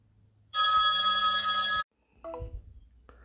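A telephone rings loudly and close, one sustained electronic ring lasting over a second, followed by a brief softer tonal chirp and some handling noise.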